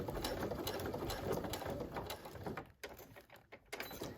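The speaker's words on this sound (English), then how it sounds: "We're going to go all the way through, and I want to go all the way off, and then I want to back stitch." Sewing machine running steadily as it stitches a clear vinyl stadium bag, a continuous close mechanical whir that slows and stops near the end with a few short bursts for back stitching.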